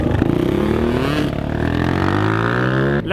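A Yamaha R3 sport motorcycle, not ridden for four months, revs up with a rising, whining engine note, loud and close, then cuts off abruptly near the end.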